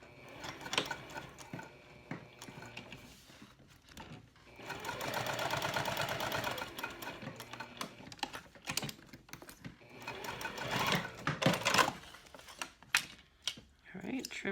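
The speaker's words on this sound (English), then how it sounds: "so now what I'm going to do is stitch just across the bottom here, the bottom bevel across and back up." A sewing machine runs in two bursts, whirring and clattering as it stitches across the bottom bevel of a key fob wallet. Between the bursts come quieter handling clicks, and a person talks at times.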